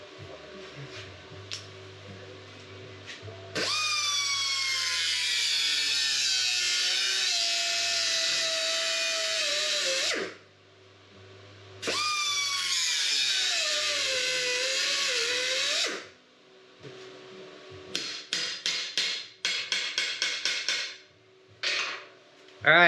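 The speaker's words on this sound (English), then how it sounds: "Gotta cut it off." Metal piece welded to a homemade English wheel frame being cut off with a high-pitched grinding or cutting tool in two long loud whining bursts, followed by a series of sharp rapid taps and clatters near the end.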